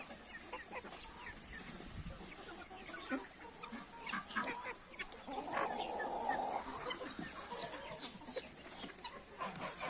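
Chickens, including Marans and Legbar hens, cluck and call in a rural farmyard with other poultry. The clucking is moderate and irregular, with a louder cackle in the middle and no one speaking.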